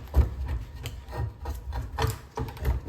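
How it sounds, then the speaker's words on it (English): A draw knife scrapes thin shavings off a wooden self bow stave, making repeated rough rasping strokes about twice a second, close by with no talk. "you're more of scraping the wood off instead of cutting it off of there"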